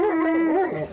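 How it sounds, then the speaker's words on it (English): An Alaskan Malamute gives a close, continuous woo-woo talking vocalization, a wavering, rising-and-falling moan-like whine with no barking. "They have a woo-woo or a talking, as you can tell"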